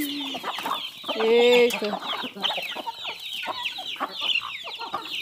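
Chickens cluck and squawk close by while being fed corn on a farm, with a busy run of overlapping calls and one louder drawn-out cry; a voice briefly exclaims.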